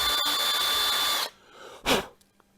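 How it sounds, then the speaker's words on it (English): Portable power drill with a bit boring at an angle through a leaded glass solar light terrarium, a loud steady whine for over a second, then a short second burst after a pause, with no talk. "Going to drill right through"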